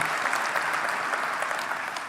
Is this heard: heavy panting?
no